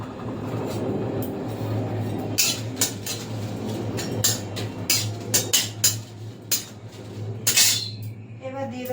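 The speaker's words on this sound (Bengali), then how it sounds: "শুকনো লঙ্কাটা আমি এবার দিয়ে দেবো কড়াইতে আগে।" Dried red chillies go into a hot kadai while making kul (jujube) pickle, giving a run of sharp metallic clinks and taps over a steady low kitchen hum, close and moderately loud.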